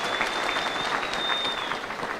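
A church congregation at a bishop's installation applauds prisoners with sustained, dense clapping from many hands, steady and moderately loud throughout.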